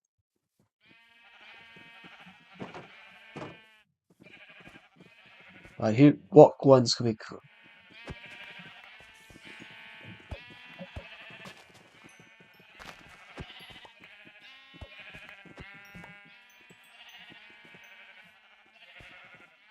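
Sheep bleating in the video game Minecraft, a burst of several wavering bleats near the middle, loud and close, with quieter scattered game sounds and people talking faintly around it.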